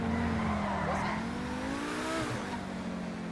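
A Lamborghini Huracán EVO Spyder drives in GTA 5, its steady engine drone rising and shifting in pitch with a brief tire squeal, close and continuous, with a voice faintly present.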